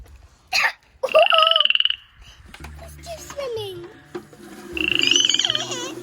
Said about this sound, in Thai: กบอ้วนมากเลยอ่ะ กบ กบมันกินแมลงนะ